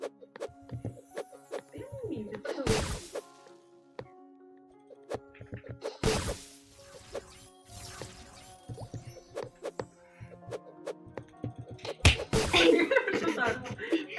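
A piñata being struck repeatedly in the Roblox game Steal a Brainrot: several sharp, loud smacking hits in bursts over game music, with a few laughs and some talk in between.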